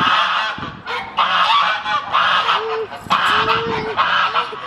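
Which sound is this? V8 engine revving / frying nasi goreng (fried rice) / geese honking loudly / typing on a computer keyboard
geese honking loudly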